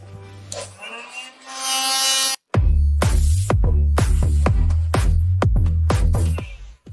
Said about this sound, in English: I'm going to try with this sander